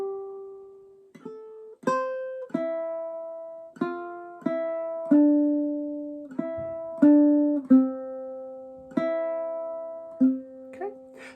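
Wildwood Flower played clawhammer style on a ukulele: a steady sequence of plucked, bright notes with quick decays, clean and close, with no voices.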